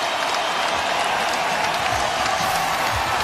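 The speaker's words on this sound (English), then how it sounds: "those who remain now beginning to stand and applaud the 15th consecutive win by the Houston Rockets" Basketball crowd applauding steadily after the Houston Rockets' 15th consecutive win in an NBA game against the Nuggets, a dense, continuous wash of clapping with scattered cheers throughout.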